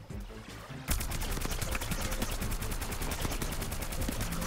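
Rapid shots from a sunflower character in a video game, a loud continuous stream of evenly spaced bursts starting abruptly after a short quieter lead-in.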